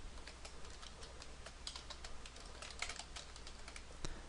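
Computer keyboard typing while a chart title is edited in dashboard report software, steady quiet key clicks in a continuous run with a couple of sharper taps, no speech.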